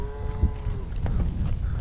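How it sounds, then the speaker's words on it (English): Cattle low and moo as a herd is driven down a hillside canyon on a ranch, a drawn-out moo rising over steady outdoor rumble and shuffling, fairly close. "Someday these cattle will go somewhere."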